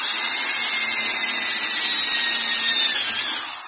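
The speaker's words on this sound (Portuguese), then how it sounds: "pega uma furadeira, tá? Faz isso aqui, ó, a peça," Electric drill boring through a brand-new pressure cooker part, a steady high-pitched whine with a grinding edge that holds for several seconds, close and loud, with no talking.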